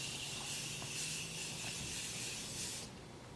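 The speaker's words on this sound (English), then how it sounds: "set this mother freaker with my new setting spray" Makeup setting spray misted from a pump bottle, a steady close airy hiss lasting nearly three seconds with faint clicks of the nozzle, then cutting off into quieter room tone.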